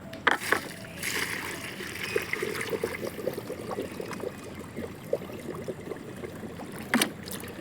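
Water poured onto dry, crumbly soil being readied as mud for growing lotus, a soft continuous trickle and splash with a few sharper knocks, fairly close and steady throughout.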